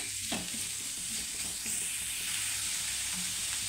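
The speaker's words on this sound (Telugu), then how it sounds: "ముల్లంగి ముక్కలు వేగడానికి కొంచెం టైమే పడుతుందండి, కానీ నిదానంగా మంచిగా వేపుకోవాలి" Radish pieces frying slowly in oil give a soft, steady sizzle with light stirring scrapes, fairly quiet and close, after a brief knock at the start.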